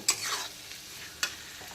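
Cumin and masala of tomato, onion and green chili are stirred and fried in a pan over low to medium heat, a quiet sizzle broken by two sharp scraping strokes of the spoon.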